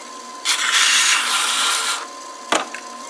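A potter's wheel spins as clay is centered before throwing a bowl with a split rim, giving a loud, wet rubbing swish over a faint steady motor hum, then a short sharp scrape.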